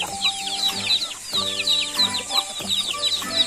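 Backyard village chickens clucking in short repeated bursts, a steady nearby chorus with no voices over it.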